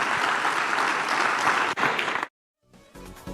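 A church congregation at Centro Cristiano El Buen Samaritano bursts into loud, dense applause for a pastor. It cuts off abruptly into silence, and faint music follows.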